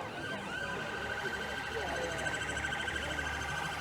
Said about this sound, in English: all the emergency vehicles have started up their sirens